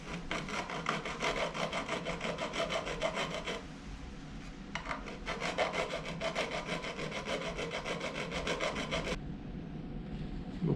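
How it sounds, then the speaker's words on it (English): Hand file rasping down a fretboard inlay on a wooden fretboard, steady rapid back-and-forth strokes in two long bursts with a short pause, close and fairly quiet. "I'm going to take the first bit off with a file."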